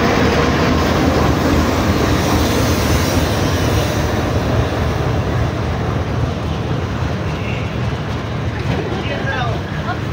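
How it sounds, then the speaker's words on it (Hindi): The Khyber Mail passenger train pulls out of Okara railway station, a loud continuous rumble of rolling wagons and wheels on track heard from inside a coach, steady throughout without distinct horn blasts. "तो दोस्तों ट्रेन हमारी मूव होना शुरू हो गई है उकाड़ा रेलवे स्टेशन से।"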